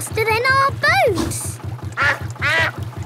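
Cartoon duck character from Peppa Pig quacks in a rapid run of loud, close calls over a steady chugging boat motor, with a short spoken exclamation in between.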